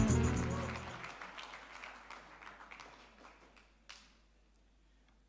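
Conference audience at a Future of Work 4IR dialogue clapping for a speaker, a loud burst of applause that quickly thins to scattered claps and fades within a few seconds.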